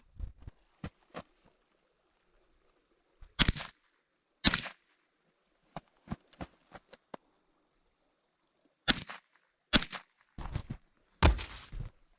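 A 9mm handgun fired outdoors: sharp, loud single shots crack out in irregular bursts, some in quick pairs and runs, separated by near-silent pauses.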